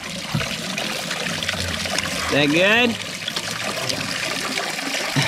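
Spring water piped down from the mountain runs out of a pipe in a steady, close trickle that carries on throughout. A man briefly asks a short question partway through.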